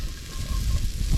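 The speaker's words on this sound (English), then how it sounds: "Oh, listen to it sizzle." Garlic and onion sizzle in an oiled pan over a bush campfire, a short, steady close-up hiss and crackle with no voices.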